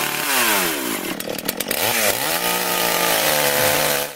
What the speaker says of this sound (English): fire up my chainsaw